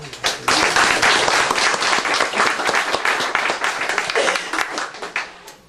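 Conference audience breaking into applause, a sustained burst of many hands clapping close and loud, rising quickly and gradually thinning out toward the end.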